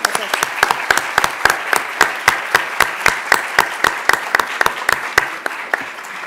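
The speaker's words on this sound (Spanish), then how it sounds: "le ofrecemos a nuestra conferencista un aplauso" Applause for a speaker at an academic conference on data science, a fairly small group clapping briskly and steadily, with distinct individual claps audible in a quick, even rhythm that slows slightly toward the end.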